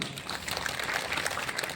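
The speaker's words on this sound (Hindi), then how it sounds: "एक जोरदार तालियां इनके लिए भी।" Faint, continuous applause from an audience cheering for young people at a church youth gathering, sounding somewhat distant and steady throughout.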